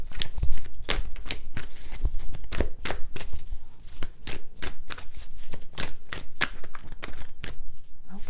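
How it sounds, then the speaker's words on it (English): Ancestor Spirit Oracle cards riffle and shuffle in quick, steady bursts close by, a papery flutter repeating rhythmically for several seconds with no talking. "I'm going to just pull a few of the Ancestor Spirit Oracle cards"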